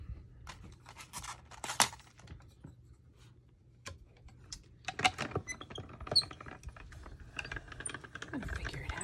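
Acetate sheet being cut by hand for a die-cut crafting project: irregular close snips and scratchy rustles, with a few sharper crisp bursts between quieter handling noises.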